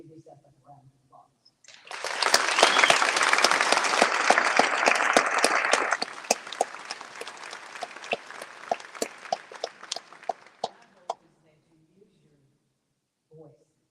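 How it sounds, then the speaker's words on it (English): A medical school hooding ceremony audience breaks into loud, sustained applause that thins out into scattered individual claps and finally stops, with quiet talk before it begins. "Give yourself a round of applause."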